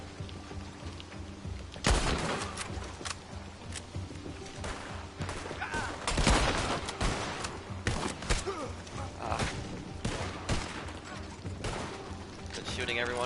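A Red Dead Online shootout, with rifle shots and bursts of gunfire cracking repeatedly over a busy background while people talk throughout.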